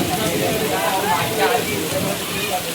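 Steady rain pours down in a Konkan village, a dense continuous hiss of drops on surfaces at close range with a faint voice underneath.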